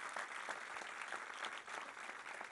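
Applause for the Prime Minister at the inauguration of the National Museum of Indian Cinema: a hall full of people clapping steadily, a dense, even wash of claps heard from a distance and fairly faint.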